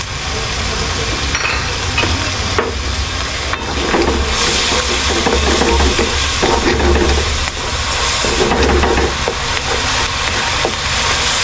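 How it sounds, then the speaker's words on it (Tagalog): Chicken Bicol Express ingredients sautéed in a pan give off a steady, continuous sizzle with stirring scrapes over a low rumbling hum, with no talk. "So, mabilis ang pagigisa lang po ng mga to."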